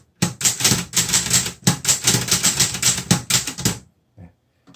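Keys strike on a Crown Top Star 10S Korean two-set Hangul typewriter, a fast, close run of sharp mechanical clacks in two bursts with a short pause between, ending abruptly with a couple of faint clicks.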